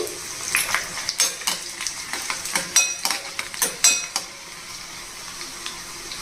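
Dried red chillies and garlic fry in hot tempering oil in a pan, a soft steady sizzle under repeated close clinks and scrapes of a spoon stirring, which stop near the end and leave only the sizzle.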